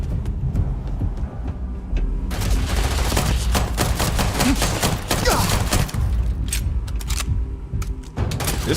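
Pistol gunfire in a video game: loud, rapid shots in quick succession, with a few sharp isolated reports before and after the main volley.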